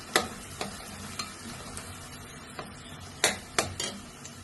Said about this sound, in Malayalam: ഒരു പാത്രം അടുപ്പത്ത് വെച്ചിട്ട് ഓയിൽ ഒഴിച്ചു കൊടുത്തിട്ടുണ്ട്. നമുക്ക് സവാള പൊരിച്ചെടുക്കാം.